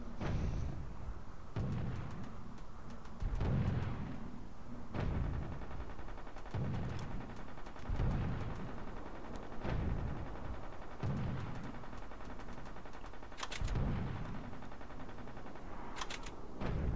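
Machine gun and artillery fire in the Toy Soldiers: Cold War video game: a series of heavy booming impacts at roughly regular intervals, with lighter rattling fire between them and no voices.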